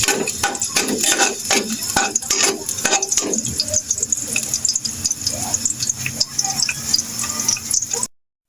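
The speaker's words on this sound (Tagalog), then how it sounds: "Gisa na natin yung bawang at sibuyas." Garlic and onion sautéing in hot oil at a home kitchen in a Philippine province, with close rhythmic scrapes and clatters of a spatula over a constant loud sizzle that cuts off at the end.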